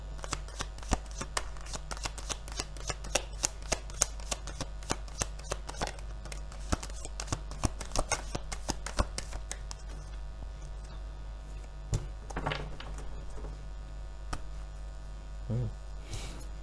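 Tarot cards being shuffled during an Indonesian-language reading, a run of crisp riffling clicks and snaps for about ten seconds over a steady low mains hum, then a few softer card sounds.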